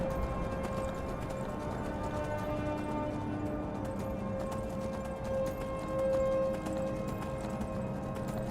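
Horse hooves clip-clop at a steady gallop in the video game Skyrim, a continuous rhythmic beat over a dense backdrop of game music and ambience, with no talking.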